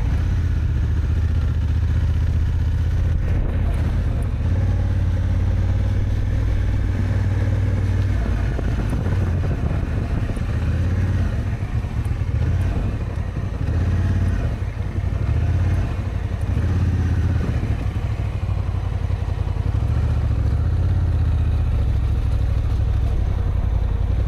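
A large, heavy Africa Twin motorcycle rides along with a steady, loud engine drone and continuous road and wind rumble that swells and dips slightly throughout.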